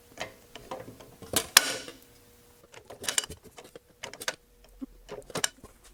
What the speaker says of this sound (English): we're going to punch those on this little Heinrich bench punch